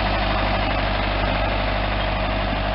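A 98 hp four-cylinder New Holland 6810 tractor idles nearby with a steady, even diesel rumble throughout and no talk over it.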